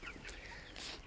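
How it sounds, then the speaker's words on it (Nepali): Local hens kept for eggs cluck in a short, faint burst nearby, with no one speaking. "त्यो अन्डा खानको लागि मैले त्यहाँ लोकल कुखुरा राखेको छु"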